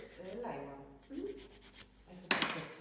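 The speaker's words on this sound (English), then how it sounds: "just really filing like underneath" A file rasps underneath gel nails during a French manicure, a few short, soft scraping strokes close up, separated by brief pauses, with a sharper scrape near the end and no talking.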